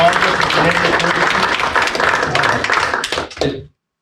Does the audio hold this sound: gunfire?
no